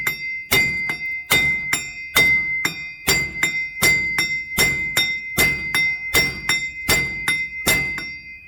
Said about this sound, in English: let me see if I can't just strike this and get this out